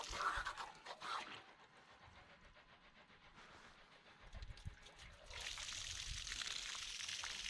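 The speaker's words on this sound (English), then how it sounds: "the water's just leaking back in" Water trickling and dribbling back into a fibre optic conduit, a soft irregular wet trickle that grows steadier and brighter toward the end, heard close with no talking.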